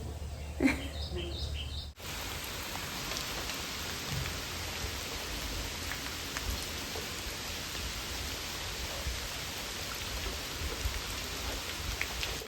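Heavy, steady rain hisses continuously, following a brief burst of faint chirping and clatter at the very start.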